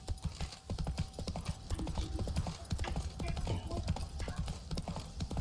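Roach, Geralt's horse in The Witcher 3, trots with a steady, close clip-clop of hooves that runs the whole stretch, with game ambience underneath and occasional faint voices.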